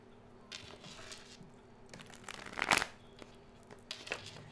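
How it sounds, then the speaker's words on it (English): Tarot cards shuffled during a live Q&A reading, with soft intermittent riffles and slides and one sharper snap near the middle, close and fairly quiet over a low steady hum. "I'm shuffling up for you"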